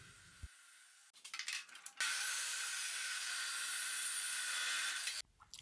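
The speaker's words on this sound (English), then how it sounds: "Starting up by cutting the pieces, it's gonna be T-shaped brackets." A power saw cuts leftover 2 mm steel tube into pieces for heavy-duty T-shaped shelf brackets: a few rough starting bursts, then a loud, steady, hissing grind for about three seconds that cuts off abruptly, close up.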